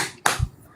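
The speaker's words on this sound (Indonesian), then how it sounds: "tinggal tepuk tangan aja." One sharp hand clap rings out close and loud, a single crisp smack followed by a faint low thump, alone without speech.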